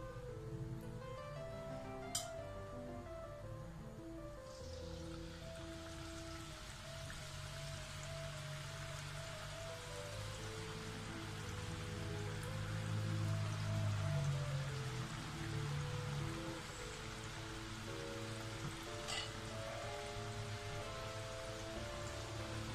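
Ribbon pakkavada dough pressed into hot oil in an iron pan sizzles with a steady, dense bubbling hiss that swells in the middle and holds close and continuous, with a faint hum underneath.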